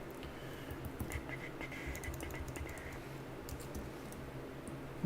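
Typing on a computer keyboard, a quiet irregular patter of clicking keystrokes at close range in a calm room, no voices.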